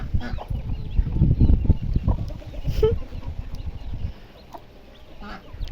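Hens cluck softly and repeatedly outdoors with faint chirps of chicks mixed in, against a breezy, rustling background.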